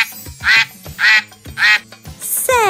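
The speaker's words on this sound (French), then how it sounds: "Quel cri fait le canard? Il croasse ou il cancane?" A duck quacks four times in a steady, evenly spaced series, loud and close, with a brief higher chirp at the end.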